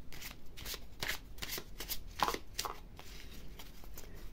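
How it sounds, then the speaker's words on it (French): Tarot deck shuffled by hand, a quick run of soft riffling, slapping card sounds, close and quiet, with no speech. "Je remélange un petit coup."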